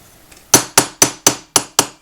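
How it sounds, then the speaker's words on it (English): A small jewelry hammer strikes metal wire six times in quick, evenly spaced blows, flattening it. Each hit is a sharp, close, bright metallic tap that rings briefly, with no voices. "Then I take him with my little jewelry hammer here. This not only flattens them,"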